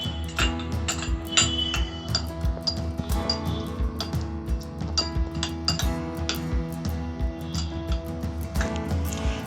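A utensil mixes khoya kheer through chicken biryani in a pot, making a steady run of sharp metallic clinks and taps against the vessel over a low background hum.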